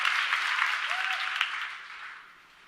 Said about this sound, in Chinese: 我们拍手